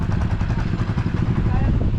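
A motorcycle engine runs steadily and loud nearby on a road near a river, its low throb continuous throughout with voices present.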